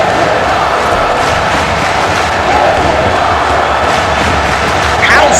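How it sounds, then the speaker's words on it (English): At a live wrestling event, a crowd cheers and roars in a loud, sustained wash of noise, with a commentator's voice heard faintly in the mix. "Crowd loving this. The crowd is loving this,"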